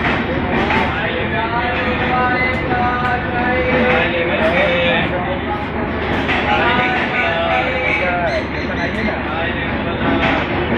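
Mithilanchal Express standing at Barauni Junction: a steady, loud rumble of railway coaches and station noise fills the scene, with people chattering and calling throughout.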